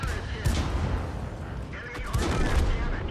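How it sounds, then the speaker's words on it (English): A tank gun in a video game fires rapidly in a dense, continuous roar of blasts and booms, loud and close, with a voice talking over the gunfire. "Now you see the rapid fire capability."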